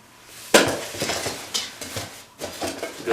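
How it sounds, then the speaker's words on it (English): Metal cooking pots are packed into a backpack, with a sharp clank at the start followed by several lighter rattles, knocks and rustling of gear, close and fairly loud, with no talking. "and then I take my cooking gear"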